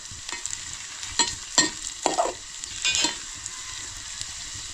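Onions fry in a pan over a wood-fired stove, a steady sizzle broken by several sharp scraping stirs at irregular intervals.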